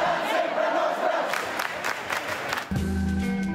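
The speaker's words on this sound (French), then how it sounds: "En moins d'une heure, les ministères sont assiégés par la foule" A large crowd besieging government ministries in Catalonia, Spain, roars and chants in a steady, dense wash of voices, with a brief dip near the end before the noise continues.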